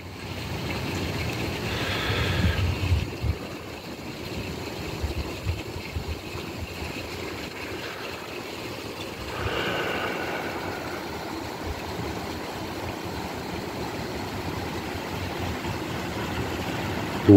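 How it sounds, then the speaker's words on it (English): Wind before a storm in Louisiana, a steady broadband rush blowing without a break, with stronger gusts swelling around a few points and no voices. "The wind is coming back."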